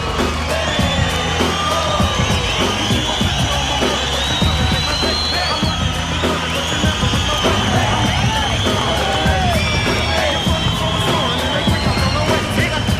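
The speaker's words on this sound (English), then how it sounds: "that's the roar of the crowd" Boxing arena crowd in Melbourne roaring and cheering for local fighter Sam Soliman as he arrives, a dense, loud, continuous wall of shouts, whoops and babble that stays steady throughout.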